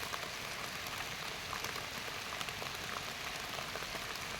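Steady rain pattering on surfaces outdoors while foraging for mushrooms in the early season, a dense, even hiss with faint drops throughout and no talk.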